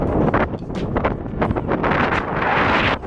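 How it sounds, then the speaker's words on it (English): Strong gusty wind buffets the microphone outdoors on a fall bass fishing trip, loud irregular roaring bursts across the whole moment. "Today we're going to be fishing in the wind. As you can see, it's pretty windy out."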